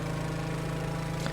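The Pelican, a video game plane, has flywheeled engines that drone as a steady, even hum with a strong low tone, running alone at a constant pitch.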